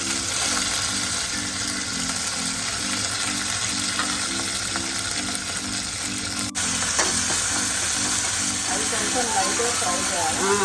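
Green chillies, fenugreek and curry leaves fry in oil for a paneer curry, a loud dense crackling sizzle running throughout with a steady rhythmic mechanical rattle underneath.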